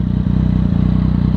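A warmed-up Yamaha FZ-09 with an Arrow exhaust and its dB killer removed idles close by, a loud, steady, lumpy rumble that pulses evenly, with a couple of brief knocks. No voices.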